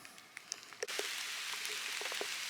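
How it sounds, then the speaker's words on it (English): Rain pattering on the roof of a parked Jeep at a campsite, starting light with scattered drops and then picking up into a steady, dense hiss of rainfall. "Rain definitely coming down a little harder now."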